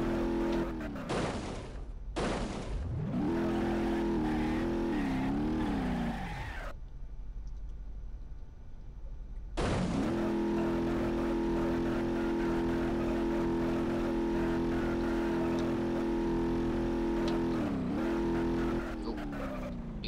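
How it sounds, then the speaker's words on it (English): Car engine in the BeamNG.drive driving game, revving hard and loud up close with rising and falling pitch, tires peeling out, then a short lull before the engine roars again and holds steady. "Am I peeling out on the car?"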